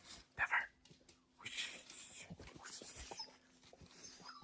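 A dog whimpers in short bursts and pants close by, with brief human talk mixed in.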